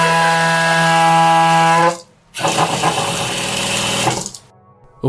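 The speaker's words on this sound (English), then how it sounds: "It's simple home plumbing with air in the lines. An issue plumbers call water hammer." Water hammer from air trapped in home plumbing lines, loud and close: a sustained tonal groan that cuts off abruptly, then after a short pause a rough rattling surge that fades away.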